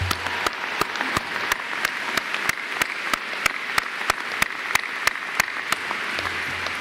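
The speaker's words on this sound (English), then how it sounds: "Let's give them a big round of applause." At a university commencement ceremony, close, sharp hand claps repeat at a steady, even pace over a faint hall background.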